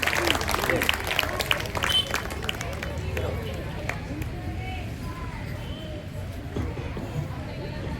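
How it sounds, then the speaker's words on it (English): An audience at a school spelling bee competition claps in a dense burst that fades into crowd murmur and voices. "Clap hands."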